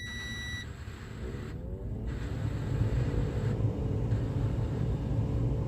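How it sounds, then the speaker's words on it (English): A brief electronic beep from a power inverter sounds at the start over the low, steady rumble of an idling diesel engine. "That beeping, that's just my inverter."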